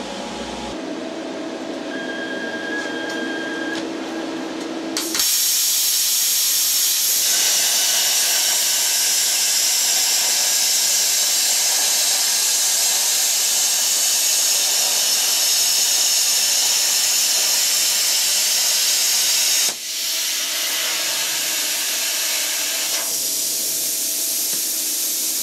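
An R-Tech Xtreme CNC plasma cutter cuts metal with a loud, steady hissing roar that lasts about fifteen seconds, with quieter machine noise before and after.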